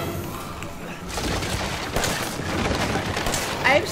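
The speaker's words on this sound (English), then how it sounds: "I'm shooting her so many times." Rapid gunfire in the Resident Evil 7 horror game, a dense run of repeated shots filling the whole stretch at steady loudness, with a sharper burst near the end.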